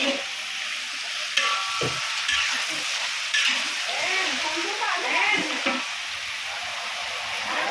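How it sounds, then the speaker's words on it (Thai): Pork stir-fried with garlic and pepper in a hot pan over high heat, sizzling loudly and steadily, with scraping and stirring clatter throughout while someone talks over the cooking. "เราก็จะผัดหมู ผัดหมูเข้าไปในกับกระเทียมพริกไทยนะคะ"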